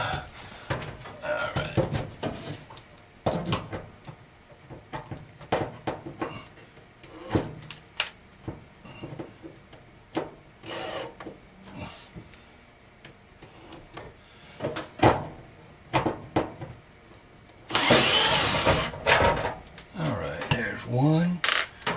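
Screws being backed out of an RV external stove vent, with sharp metallic clicks, taps and scrapes of a screwdriver and parts, irregular and close, ending in a louder rustling burst.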